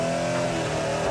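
The twin-turbo 5.5-litre engine of a 2017 Mercedes-AMG SL 63 convertible roars steadily up close, one brief unbroken burst of deep engine tone with no speech.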